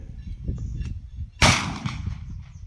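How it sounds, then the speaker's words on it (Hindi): A single sharp gunpowder blast, set off at a vermicompost farm to scare birds away, cracks loudly midway and decays quickly over a quieter outdoor background with faint bird calls. "अब ये आप इसका धमाका सुनिए कितना तेज़ होता है"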